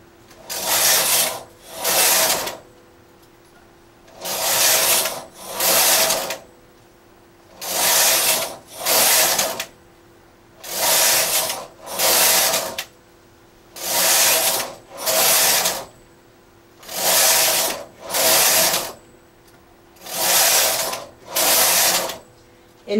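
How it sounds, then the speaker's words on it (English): A knitting machine carriage is pushed back and forth across the needle bed, working zig zag fabric with short rows. Each row gives a loud rasping whir in paired bursts, eight pairs at a steady rhythm with short gaps, close up and with no voices. "so I knit one row"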